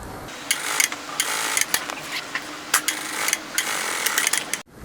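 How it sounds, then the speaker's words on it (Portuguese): A sewing machine stitches a seam on a zippered pouch in steady, close mechanical bursts of whirring and clacking, with short pauses between runs and a sudden stop at the end. "E fazer aqui a costura com a margem do calcador"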